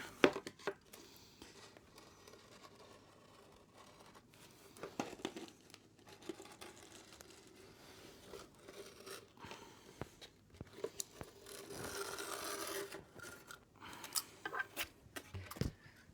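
Utility blade slicing through skateboard griptape, a gritty scraping and crinkling cut that comes in uneven bursts, swelling into a longer rasping stretch near the end, close and moderately loud with no talk.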